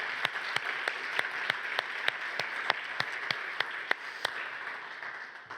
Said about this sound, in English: Please, can you join me in giving them a round of applause?